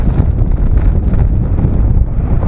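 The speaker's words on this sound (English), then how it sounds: "Now I'm turning directly into the wind. I imagine it's making some noise in the camera microphone." Strong, steady wind of about 12 to 15 mph on the Pacific beach at Ocean City, Washington, buffets the camera microphone, producing a loud, continuous low rumble with no speech.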